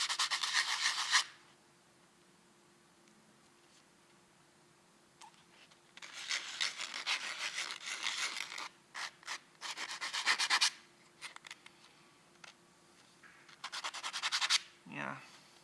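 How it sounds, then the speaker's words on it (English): Hand rubbing of a small metal part's edges at an angle to chamfer them, heard as repeated bursts of dry scraping and rasping strokes separated by pauses, fairly close and moderately loud. "So I'm going to try to give it a bit of a chamfer on the edges here."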